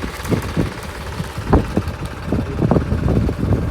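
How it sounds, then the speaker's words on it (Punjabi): A farm tractor's engine idles with a steady low rumble and irregular knocking pulses, roughed up by wind buffeting the microphone, with no voices. "ਆਪਣਾ ਟਰੈਕਟਰ ਆ"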